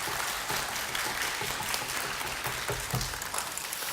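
Audience applause fills a concert hall at a children's composer recital, a dense, steady clapping that holds evenly from start to finish.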